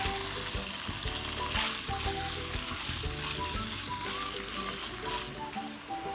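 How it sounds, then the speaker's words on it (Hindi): Chicken frying in a pan as the first step of a chicken and vegetable pasta, a steady close sizzle with occasional stirring scrapes throughout. "पहले चिकन ऐड कर देंगे, फ्राई करेंगे इसको"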